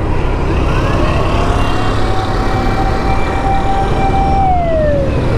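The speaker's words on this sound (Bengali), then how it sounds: "অ্যাম্বুলেন্সটা যাচ্ছে" An ambulance siren wails past on a road in Chittagong, a loud sweeping tone that drops in pitch as it passes, over steady traffic rumble; no speech.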